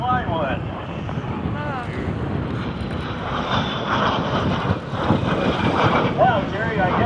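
A de Havilland Vampire, an early jet with a Goblin 35 engine, roars past at an airshow in Texas with a steady broad whoosh, joined by wind noise while an announcer talks over the sound.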